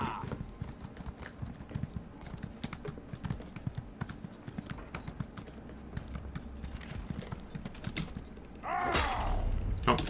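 Horse hooves clip-clop steadily in Elder Scrolls Online, a quick, even rhythm of game footfalls running through the clip, with a louder burst of game sound near the end.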